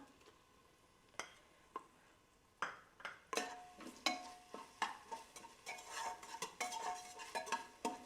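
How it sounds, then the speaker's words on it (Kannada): Ginger garlic paste frying and being stirred in a pan for trotter soup, with a steady sizzle under repeated sharp scrapes and clinks of a utensil against the pot, growing busier toward the end. "ಇದು ಆಲ್ಮೋಸ್ಟ್ ಫ್ರೈ ಆಗಿದೆ ಇವಾಗ ಜಿಂಜಿ ಗಾರ್ಲಿಕ್ ಪೇಸ್ಟ್ ಹಾಕೋಣ"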